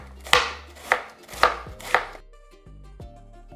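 A knife slices red cabbage into thin strips on a plastic board, giving four sharp crunchy chops at a steady pace, followed by quieter scraping and light knocks.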